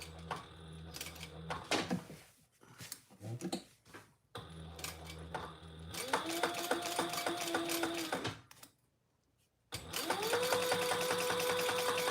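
A sewing machine top stitches a trifold wallet in tan material with black thread, running in several close bursts of steady mechanical stitching separated by short pauses and a longer silent gap.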